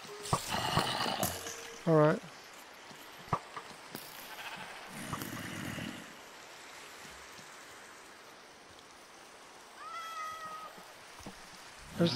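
Cats meow in Minecraft VR, a few short cries scattered among faint game noises and quiet background, with a soft low rumble midway.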